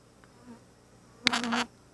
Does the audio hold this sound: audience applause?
no